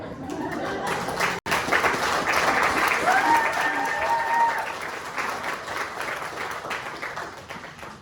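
Audience applause fills a hall after a talk on local county history, a dense, steady clapping that carries for about eight seconds, cutting out for an instant early on, with faint cheering tones mixed in.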